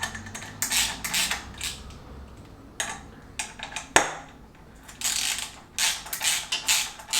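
Ratchet clicks and metallic tool clatter come in short bursts from a classic Fiat 500 engine under rebuild as fasteners are tightened one after another, close up, with brief pauses between.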